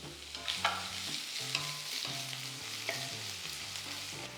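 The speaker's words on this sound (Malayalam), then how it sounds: "എണ്ണ ചൂടാകുമ്പോൾ ഇതിലേക്ക് ഒരു മീഡിയം സൈസ് സവാള സ്ലൈസ് ചെയ്ത് ചേർക്കും. ഒപ്പം തന്നെ 2 പച്ചമുളക് ചേർത്ത് നന്നായിട്ടൊന്ന് വഴറ്റിയെടുക്കാം." Sliced onion and green chilies sautéing in coconut oil, a soft steady sizzle with occasional scrapes and taps of a spatula stirring the pan, fairly quiet and close, no voices.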